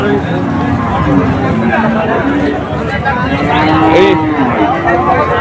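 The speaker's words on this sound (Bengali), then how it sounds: "এখানে অনেকগুলো গরু দেখা যাচ্ছে।" Cattle low repeatedly at the busy Shahpur cattle market, with drawn-out moos rising over a steady babble of crowd voices and market noise.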